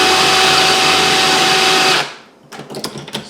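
A power trimmer trims a brass cartridge case, a loud steady whir for about two seconds that cuts off abruptly, followed by a few small handling clicks.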